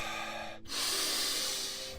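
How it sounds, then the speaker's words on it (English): Breathing sounds from a person describing anxious breathing: a sharp inhale-like burst followed by a long, loud airy exhale, close to the microphone, with no talk. "I'm breathing because I'm so anxious."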